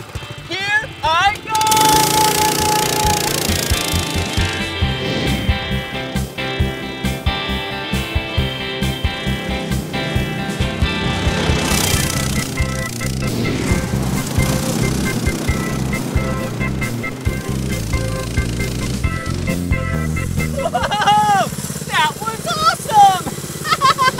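A go-kart engine is pulled to life and then revs loudly and continuously while the kart drives, with a rough, buzzing drone that rises and falls and occasional excited voices over it.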